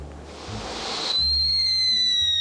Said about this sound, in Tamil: இது அந்த விசில் வெடியா?